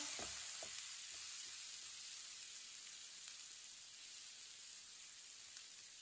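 Half-fried vegetables for an omelette sizzle steadily in a pan, a continuous, even frying hiss with a few faint clicks near the start and no talking.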